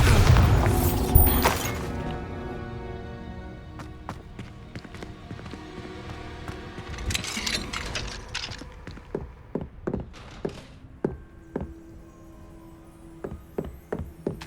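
A Bombarda blasting spell from Hogwarts Legacy: a heavy booming explosion at the start, followed by ringing tonal layers and a series of sharp separate impacts and thuds spaced through the rest of the clip.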